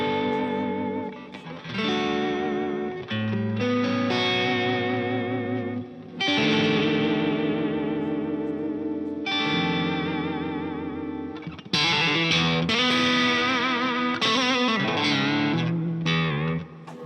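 An electric guitar played through a fuzz pedal with the fuzz backed off gives a warm, mildly saturated tone. Sustained chords and melodic phrases ring out with modulated, chorus-like shimmer and a short pause or two between passages.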